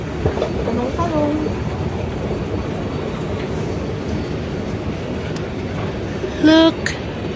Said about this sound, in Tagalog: the train here in Riyadh, Saudi Arabia